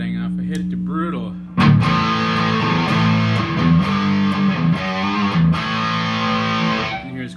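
Electric guitar through a Wampler Pinnacle distortion pedal set to its brutal mode, a short quiet intro before loud, thick, bright saturated chords and riffs with pinch-harmonic squeals that ring continuously, then stop near the end.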